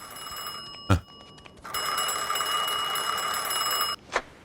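A telephone rings in the Mafia II video game, a sustained bell-like ring lasting a couple of seconds between short clicks, moderately loud and mostly alone.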